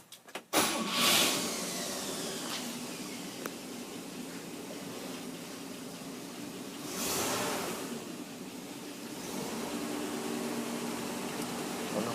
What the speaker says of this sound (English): With that, I'll crank the car up for you